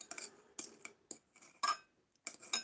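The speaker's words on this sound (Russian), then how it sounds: "Да, при резке она мягче режется." A knife cuts through fried venison sausage on a plate, giving a series of short, sharp metallic scrapes and clinks against the dish. The strokes come in separate bursts at an irregular pace, close and fairly quiet, with no voice heard.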